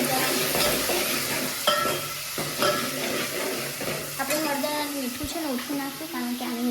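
Masala frying in a pan with fenugreek, kokum, salt and turmeric, stirred with a spoon in loud scraping strokes over a continuous sizzle, while a voice speaks intermittently in the background.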